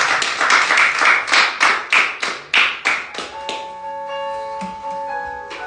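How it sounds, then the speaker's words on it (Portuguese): Rhythmic congregation clapping during a church service, about a dozen strong even claps at a steady beat, then fading as sustained music tones take over. "Se você crê, aplauda e glorifique o nome de Deus."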